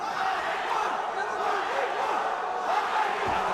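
Fight night arena crowd cheering and shouting at a mixed martial arts event, a steady, moderately loud roar with rising yells, no clear talk over it.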